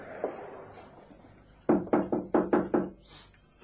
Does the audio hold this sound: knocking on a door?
yes